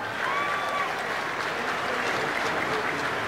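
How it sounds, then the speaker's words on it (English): A broad wash of crowd applause at pig and Ford races, steady and fairly loud from start to finish, with no talking rising above the clapping. "Give them girls a big round of applause, huh?"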